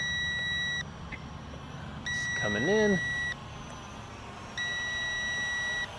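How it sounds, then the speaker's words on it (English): A drone controller sounds a steady, high electronic beep in long repeated bursts, fairly loud and close. Someone speaks briefly between them. "Controller beeps like crazy."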